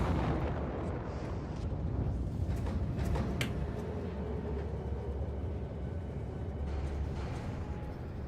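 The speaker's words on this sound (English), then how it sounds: "look at these rockets going off" Rockets launch in the factory game Factorio on the volcanic planet Vulcanus, a dense, continuous rumbling roar with scattered sharp bursts and crackles layered over a heavy low-end drone.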